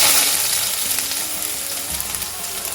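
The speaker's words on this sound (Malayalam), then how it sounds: "അരിഞ്ഞ് ഇഞ്ചി ചേർത്ത് കൊടുക്കാം." Chopped ginger sizzling in hot oil with fenugreek and mustard seeds in a pan, a loud, steady hiss of frying with faint stirring underneath.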